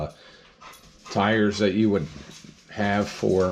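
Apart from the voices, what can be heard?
dog barking while passing by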